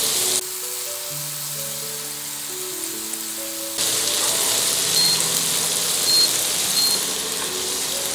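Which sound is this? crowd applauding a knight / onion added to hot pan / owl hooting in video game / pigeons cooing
onion added to hot pan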